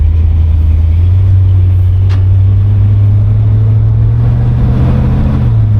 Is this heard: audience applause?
no